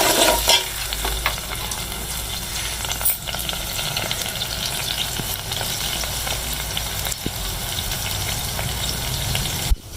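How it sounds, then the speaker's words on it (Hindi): Ginger garlic paste fries hard in a pan, a loud, dense, steady sizzle with a few stirring knocks and scrapes, close by and free of talk. "अब ये अदरक लहसुन का पेस्ट भून चुका है"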